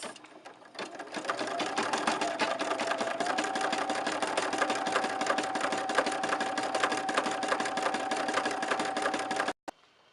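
Brother PE 770 embroidery machine stitching a design, a loud, rapid, even needle chatter with a steady motor whine that runs close-up for about nine seconds before stopping abruptly.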